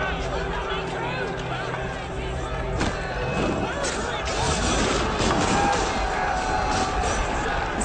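A large crowd storms the palace in Assassin's Creed Unity, a dense roar of many voices, running feet and clatter that swells steadily, with someone talking over the top.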